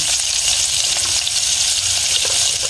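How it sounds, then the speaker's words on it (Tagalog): Squash and string beans drop into a pan of browned garlic and fry with a loud, close, continuous sizzle, dense crackle throughout with no voices. "Ilagay na natin ang atong kalbasa with sitaw."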